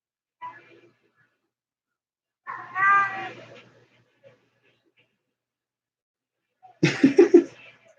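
Two cats fighting indoors, with a few yowling caterwauls and harsh meows in separate bursts, the loudest, most strident cry at the end, separated by quiet gaps.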